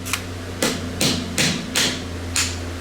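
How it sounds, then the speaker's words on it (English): Six sharp metallic taps from a small hammer striking a bolt on a dirt bike, spaced at a steady, unhurried rhythm over a faint background hum. "Take one of the bolts, thread it back down in a little bit, take a little hammer"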